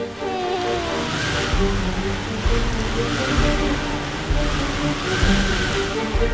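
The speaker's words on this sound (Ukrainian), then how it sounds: "Тепер дощ посилився." Heavy rain pouring steadily in an animated cartoon storm, a loud continuous wash of water with surging swells, heard alone without voices.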